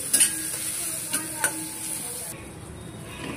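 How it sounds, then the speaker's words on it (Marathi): Masala being stirred in a pan with goat liver frying: a continuous high sizzle with a few sharp scrapes and taps of the spoon against the pan, close by. "इथं मसाला आपल्याला चांगला मिक्स करून घ्यायचा आहे।"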